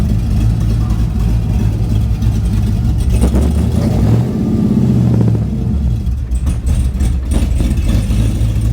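Pontiac Trans Am V8 driving on the road with mufflers still fitted, a loud continuous low engine rumble with a brief surge of revs in the middle, heard up close without talk.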